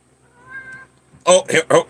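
A pet cat, male, meows three times in quick succession, close and fairly loud, after a quieter, thin drawn-out cry. No one talks.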